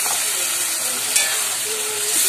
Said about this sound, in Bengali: যেটা ভালো করে নেড়ে নিচ্ছি।